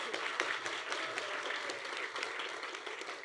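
A banquet audience claps for an award recipient at a college senior awards dinner: steady, even applause heard faint and distant throughout.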